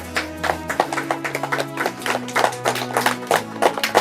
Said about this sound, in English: I hear little claps coming in.